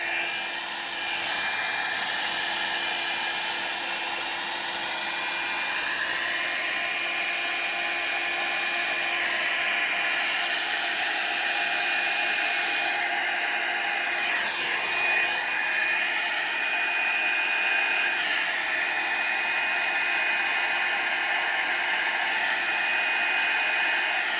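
A hair dryer blows steadily over acrylic pour paint mixed with a Floetrol cell activator, giving a continuous close whooshing hum that runs the whole time with no talk.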